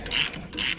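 A ratchet wrench clicks in two quick bursts while removing starter bolts on a 2015 Cadillac Escalade, close and crisp.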